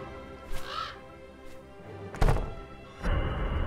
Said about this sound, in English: What's with this nasty crow?